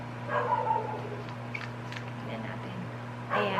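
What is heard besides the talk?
dog barking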